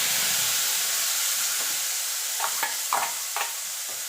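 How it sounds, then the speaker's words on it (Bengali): Ginger, garlic and green chilli paste fries loudly in oil left from frying fish, a steady close sizzle with a few stirring scrapes of a spoon in the pan. "এবার দিয়ে দেবো যে আদা রসুন আর কাঁচা লঙ্কাটা পেস্ট করে রেখেছিলাম সেটা।"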